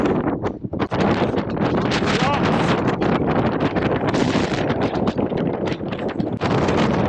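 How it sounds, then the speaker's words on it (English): Strong gusting wind on Granite Peak, Montana, buffets the microphone in a loud, continuous roar with no letup. "it's getting really windy"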